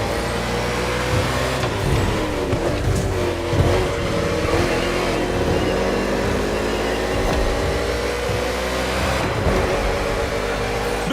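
NASCAR race cars racing on an urban street circuit in Honolulu, Hawaii, in the video game The Crew Motorfest: loud, sustained engine roar with rising and falling revs as the cars accelerate, continuous and close throughout, with no talking.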